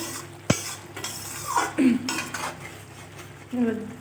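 A spoon knocks and scrapes in a pan of broccoli curry with cumin powder, a sharp clink near the start followed by irregular stirring scrapes over a soft simmer, with brief murmured sounds in between.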